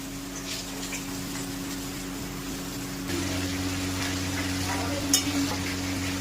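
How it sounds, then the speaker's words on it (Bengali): Onions and tomatoes frying in a pan, a continuous sizzle that grows louder partway through, with occasional stirring scrapes. "এই এখন আমরা এখানে পেঁয়াজ টমেটো ভাজছি মাংসের জন্য"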